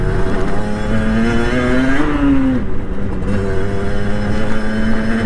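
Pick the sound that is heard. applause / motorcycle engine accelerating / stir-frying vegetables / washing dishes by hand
motorcycle engine accelerating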